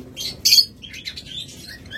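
A pair of albino split blue opaline pet birds chirp in short, high tweets, with one louder burst standing out against a soft background murmur.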